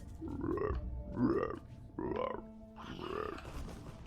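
A human voice imitates a frog, giving four drawn-out, throaty croaks in a slow, evenly spaced rhythm, loud and close with short pauses between them.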